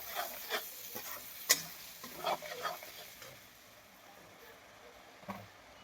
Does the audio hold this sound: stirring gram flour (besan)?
yes